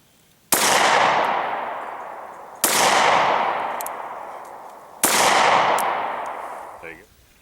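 Three loud, close pistol gunshots from a .380 handgun firing Underwood +P Gold Dot ammunition at an outdoor range, evenly spaced about two seconds apart, each with a sharp crack and a long decaying echo.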